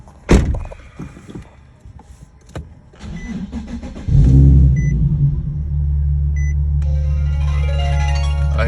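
A Nissan 370Z, just fitted with a new fuel pump assembly, comes to life after a few thunks and clicks: the starter cranks, the engine catches with a loud burst and then settles into a steady idle rumble.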